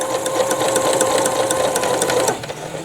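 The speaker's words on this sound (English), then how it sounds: "Just getting back used to the rhythm of the machine" A sewing machine runs steadily for over two seconds with a fast, even needle rhythm, loud and close, then stops abruptly near the end with no talking.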